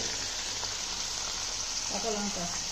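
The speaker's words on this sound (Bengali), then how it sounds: "শুদ্ধ কচুর শাকটা এই তেলের মধ্যে দিয়ে দিয়েছে" Taro greens sizzle in hot oil in a pan as a steady, broadband frying hiss close by, with a faint voice briefly audible beneath it.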